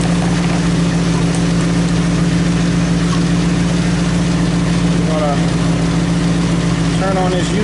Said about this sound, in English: Now the wheels are moving. Drive shaft is turning.